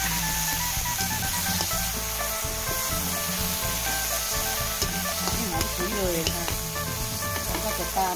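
A spicy catfish stir-fry sizzles loudly and continuously in a hot pan as water goes in, with crackling spatters, stirring scrapes and clinks of a utensil against the pan.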